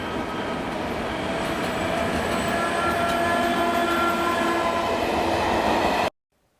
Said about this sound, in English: we were stopped to await the passage of a regional train